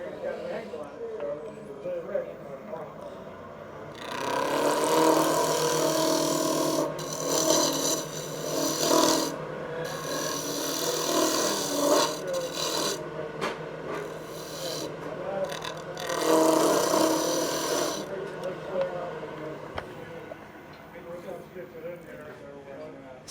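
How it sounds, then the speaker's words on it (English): A spindle gouge cuts into a spinning wooden spindle on a lathe, making rough rasping bursts that swell and fade in several passes over a steady low machine hum. "You can do it with a spindle gouge."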